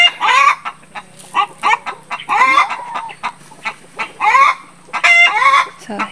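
A flock of chickens with roosters clucking and squawking up close in a farmyard, busy overlapping calls in short bursts with a faint voice underneath.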